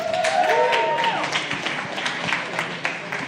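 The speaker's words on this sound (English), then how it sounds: "Let's get a round of applause for Cortland." An audience at a live event in New York City gives a round of applause, a dense wash of clapping and some cheering close by, tapering off over a few seconds while a host speaks over it.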